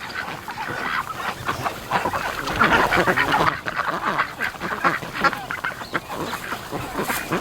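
Breeding ducks trudging through deep snow, giving a busy stream of overlapping quacks and honking calls, fairly close and continuous, with a steady background hum.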